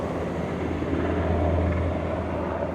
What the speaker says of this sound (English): Damn, 2 more helicopters is coming. These shits is Army helicopters